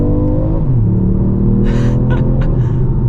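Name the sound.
2025 Ford Puma ST engine accelerating in second gear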